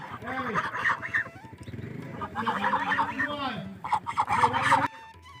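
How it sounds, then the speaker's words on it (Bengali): Geese on a river island in the Padma honk in loud, close bursts, the calls of the flock overlapping and broken by brief pauses, with some talk alongside. "আমি দেখলাম কিছু রাজহাঁস তাদের দলবদ্ধভাবে ঘুরে বেড়ানো দেখতে বেশ লাগছিল"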